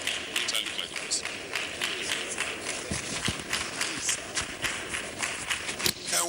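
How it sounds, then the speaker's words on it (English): Crowd applause and clapping for the Governor of Edo State at an event in Benin City, Nigeria, a dense steady patter sustained throughout with scattered sharper claps, moderately loud and alone. "Can we sustain the rounds of applause for His Excellency?"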